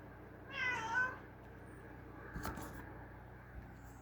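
A house cat gives one clear, drawn-out meow, close and moderately loud, followed by a brief faint rustle in an otherwise quiet room with a low background hum.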